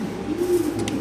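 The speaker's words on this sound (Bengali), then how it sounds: "খুব সুন্দর একটা নর কবুতর ভাই" A male pigeon gives a short, low cooing note, close and steady, lasting about a second with no talking over it.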